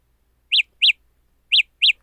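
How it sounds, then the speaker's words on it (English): Four short, bright electronic chirps in two pairs from Samsung Galaxy Buds Live earbuds, close and clear, with silence between them, resembling baby birds peeping. "Sound like baby birds chirping."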